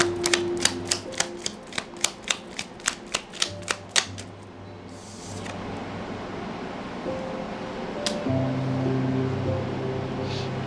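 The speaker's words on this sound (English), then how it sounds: "Let me pull a card now." Tarot cards handled during a reading: a steady run of about a dozen sharp, evenly spaced clicks and flicks, then a soft papery rustle, close and fairly quiet, with no talking.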